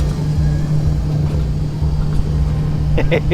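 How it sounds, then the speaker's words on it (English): A little taxi car ride at Oakwood theme park gives a steady, close motor drone with a constant low hum, and brief voices come in near the end. "Love these little taxi cars though."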